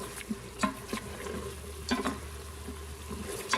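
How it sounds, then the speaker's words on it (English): Vodka sizzles and cooks off over onions in an Instant Pot for penne vodka, a soft continuous frying hiss with scattered scraping stirs and light clicks, close and moderately quiet. "You need vodka for penne vodka. Letting that cook off the alcohol."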